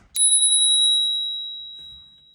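A single strike on a Ravemen Q3 bicycle bell gives a bright, clear ding that rings out and slowly fades over about two seconds, heard alone and close up.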